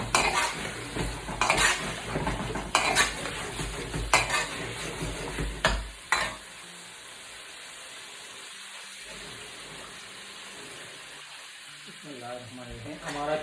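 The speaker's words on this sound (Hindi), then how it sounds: "इसको अच्छी तरह से आपने भून लेना है" Chicken karahi stir-frying in a pan, loud sizzling broken by repeated scraping stirs and metal clanks for the first six seconds, then a quiet steady hiss with a voice briefly speaking at the end.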